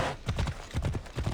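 Horse hooves clip-clop in a video game as a mount trots along in steady, rhythmic groups of hoofbeats, close and fairly loud, with no clear speech.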